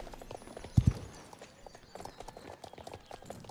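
Horse hooves clip-clop during riding in the video game Star Stable Online, a few quick, close steps with one brief louder double strike near the start over a soft game background.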